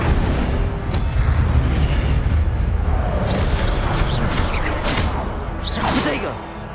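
In the video game Hogwarts Legacy, an Incendio fire spell is cast with a burst of deep booms and rushing whooshes. Several sharp flaring swishes follow before the sound fades, and a voice is mixed in.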